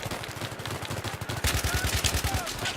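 Rapid gunfire bursts from the video game Battlefield 3, a dense string of sharp repeated shots that grows louder and busier midway, with faint speech underneath.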